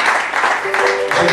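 A church wedding congregation applauds, a dense wash of clapping mixed with voices and a sustained sung or held tone partway through, steady and fairly loud throughout.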